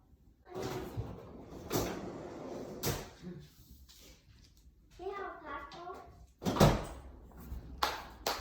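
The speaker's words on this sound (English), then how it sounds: "Can you open the drawer for me?" A freezer drawer pulled open in a home kitchen, heard as a few sharp thumps and sliding knocks at moderate distance, mixed with a voice and other kitchen handling noises.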